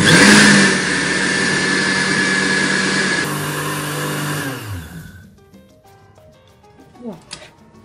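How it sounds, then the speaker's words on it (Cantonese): A brand-new blender grinds black sesame seeds into an oily powder, running loud and steady with a rising whine for about five seconds before winding down, followed by a few faint knocks. "呢個步驟先將啲芝麻咧打到變芝麻粉"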